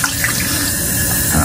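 Water runs steadily from a sink tap, a continuous loud hiss and splash close by with no pauses.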